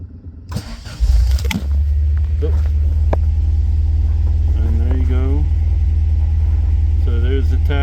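A 1967 MGB-GT engine starts and settles into a steady, loud idle, its low rumble running continuously under brief bursts of talk.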